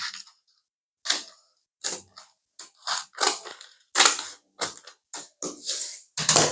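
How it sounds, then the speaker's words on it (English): Scissors snip through paper in a series of crisp, close cutting bursts separated by short pauses. "you take scissors and then you slash open from here like this to your point D"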